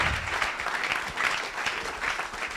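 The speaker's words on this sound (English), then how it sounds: "Now, a big round of applause for Edo." Audience applause for a speaker at an open source conference, a steady dense patter of many hands clapping throughout, moderately loud and unbroken, with no voices on top.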